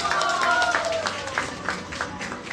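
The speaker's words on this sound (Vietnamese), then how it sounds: "chúng ta xin dành một tràng pháo tay chúc mừng cho chị Tạ Thị Cúc" Audience applause at a company year-end gathering, dense continuous clapping filling the room with crowd noise, while a faint tonal sweep and music bleed run underneath.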